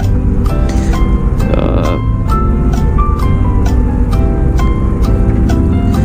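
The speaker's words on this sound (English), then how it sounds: "let's see how it pulls out of this parking lot, shall we?" Harley-Davidson Road Glide ST motorcycle pulling out of a parking lot, its engine a loud, steady rumble throughout with shifting tonal whine as it gets under way.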